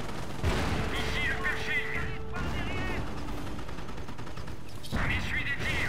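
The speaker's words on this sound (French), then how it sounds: "On essuie des tirs." Bursts of gunfire crackle in Company of Heroes gameplay, irregular shots and short volleys at moderate distance, heard under radio-style voice lines from the game.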